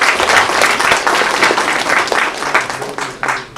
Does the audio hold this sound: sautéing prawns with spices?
no